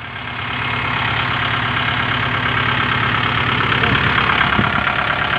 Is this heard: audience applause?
no